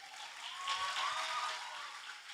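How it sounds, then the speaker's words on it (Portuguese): Church audience applauding its workers at a Tuesday service, a steady, fairly soft wash of clapping that swells slightly in the middle and holds through the whole stretch, with no voices on top. "vocês aplaudam a vida dos nossos obreiros"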